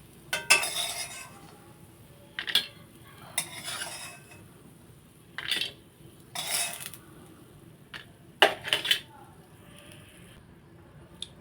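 Fried lentil dumplings lifted out of a pan with a metal utensil, giving several separate bursts of scraping and clinking spaced a second or two apart, with quiet stretches between.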